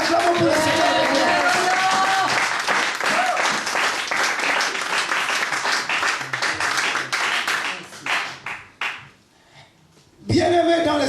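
A church congregation applauds and claps together at a French-speaking service, with dense, sustained clapping and some voices mixed in. The applause fades near the end and a voice cuts in.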